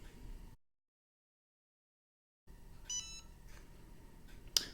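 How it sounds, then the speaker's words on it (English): A Cricut EasyPress Mini heat press gives electronic beeps as it reaches temperature: a few faint tones, then a short, sharper beep near the end, over quiet room noise after a stretch of silence. "I'm assuming too it'll have an audible beep when it gets to temperature."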